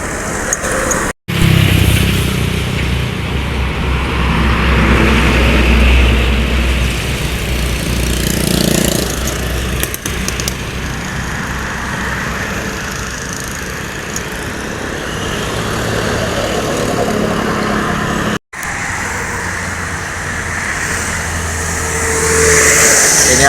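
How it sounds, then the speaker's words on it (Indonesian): A bus roars past on a road near a toll gate on the outskirts of Palembang, its loud engine and tire noise swelling and holding steady amid continuous heavy traffic. "Ini ada unit bus lagi yang melintas ya."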